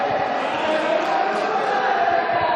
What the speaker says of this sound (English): As you can hear, the crowd are cheering for both sides.